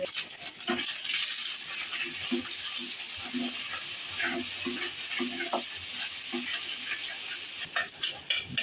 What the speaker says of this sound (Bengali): এখানে চারটা ডিম আর দিচ্ছি সাদা তেলে হালকা একটু লবণ দিয়ে দেবো